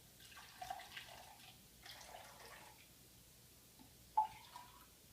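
Warm water poured into a mixture for an iodine science experiment, a soft, faint liquid trickle in quiet bursts with a brief splash near the end.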